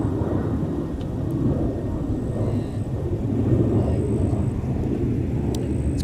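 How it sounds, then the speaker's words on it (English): A Delta Airbus A320 airliner, formerly Northwest, roars past at MSP airport, a broad steady engine rumble holding at a constant loud level throughout. "This is a Delta A320."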